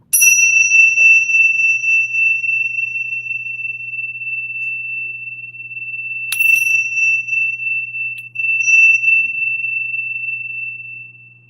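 A small bell used for energy clearing is struck sharply, its pure ringing tone sustaining and slowly decaying, then struck again midway and lightly tapped once more, resonating clearly in a quiet room.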